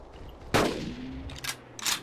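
Rifle gunfire while hunting dinosaurs in the game Carnivores: one loud, close shot with a ringing tail, followed by a couple of fainter, shorter bursts.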